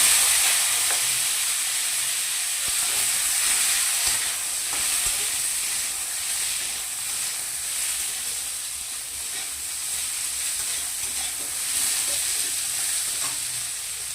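Raw mango pieces fry in a pan, producing a steady, bright, hissing sizzle that rises and falls slightly as they are stirred, with no one speaking.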